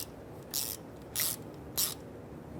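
Three short ratcheting bursts from a ratchet fitted with a swivel, evenly spaced and close by, as it tightens an oil pan bolt on a 2012-2017 Toyota Camry 2.5L four-cylinder, with no talk.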